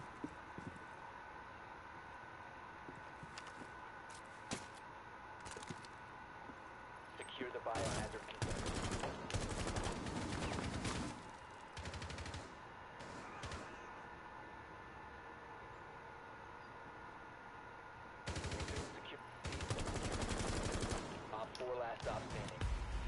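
Shotgun fire in the video game Rainbow Six Siege, heard as bursts of loud blasts in two clusters over quiet game ambience.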